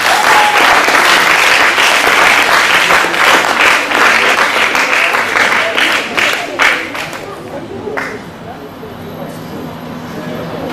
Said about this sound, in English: Ladies and gentlemen, let's clap.